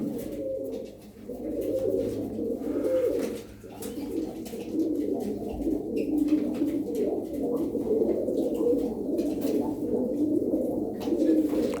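About fifteen tumbler pigeons coo steadily in a low, warbling chorus, several birds overlapping continuously at moderate volume with faint background rustle.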